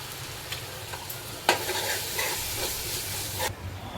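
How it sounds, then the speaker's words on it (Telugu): Ginger garlic paste hits a hot frying pan with a sudden loud sizzle burst, then settles into a steady close crackling hiss that cuts off abruptly near the end. "అది అయిన తర్వాత అల్లం వెల్లిపాయ పేస్ట్ వేస్తున్నా"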